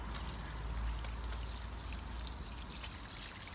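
Water pours steadily from an open-ended hose over a car being washed with Turtle Wax ceramic wash and wax, a continuous close rushing splash with no voices.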